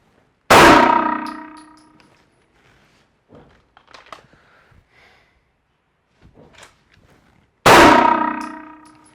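Pistol rounds strike a small steel target at a shooting range: two loud, sharp metallic clangs several seconds apart, each ringing out and fading, with faint handling and shuffling noises in the gap between them.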